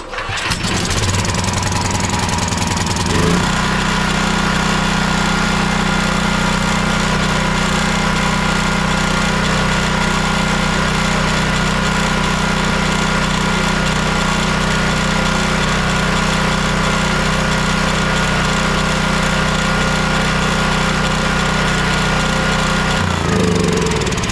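Champion Dual Fuel 9375 generator engine, its carburetor just cleaned, cranking and catching at the start, then running steadily and loudly with a constant drone before shutting off near the end; no talk.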